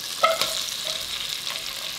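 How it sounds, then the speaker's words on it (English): Sliced onions sauteing in melted butter in a pot over medium-low heat for butternut squash soup, a soft steady sizzle with a couple of light stirring clicks near the start, close and fairly quiet, no voices. "I'm just going to go ahead and saute that on a medium-low heat until they're softened."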